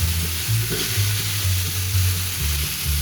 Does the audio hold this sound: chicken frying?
yes